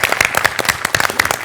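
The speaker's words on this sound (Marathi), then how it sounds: "टाळ्या" Audience clapping at a Marathi comedy show, a short burst of applause with uneven, busy claps.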